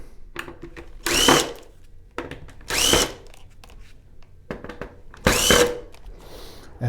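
A power screwdriver backs out screws from the T-Con board of a Sony XBR-65X900E TV, giving three short whirring bursts separated by quiet gaps with small handling clicks between.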